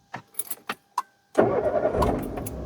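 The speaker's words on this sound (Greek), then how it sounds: "Βάζω μπρος την μηχανή." An ordinary car is started from inside the cabin. A few key clicks and jingles come first, then the starter cranks and the engine catches into a loud, steady, rumbling idle.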